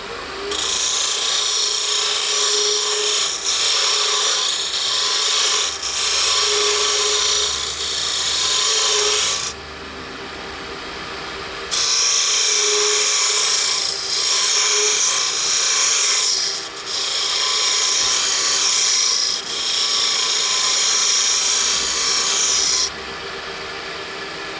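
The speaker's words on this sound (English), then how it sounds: "I'm going to do a cove with a scraper" A scraper cuts a cove in spinning wood on a lathe, a loud continuous hissing rasp lasting several seconds at a time, with a brief pause in the middle and another at the end, over a low motor hum.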